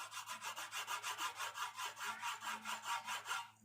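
Hand saw cutting through wood in steady, rapid back-and-forth strokes, about four per second, a rasping rhythm that is fairly quiet and heard alone without voices.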